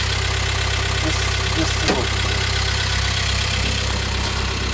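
A car engine idles with a loud, constant low rumble close by; a brief mid-clip noise and a short spoken word sit over it.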